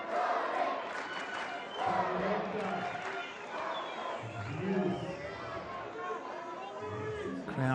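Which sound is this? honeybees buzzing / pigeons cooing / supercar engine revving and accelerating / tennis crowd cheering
tennis crowd cheering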